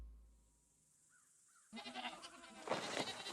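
A wounded goat with a large neck wound in an audio story gives short, faint bleats, followed by a louder, rougher burst of bleating noise, with no talking.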